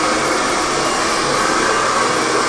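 A handheld hairdryer blows steadily and loudly at close range during a home haircut, a dense, unbroken airy roar with no pauses.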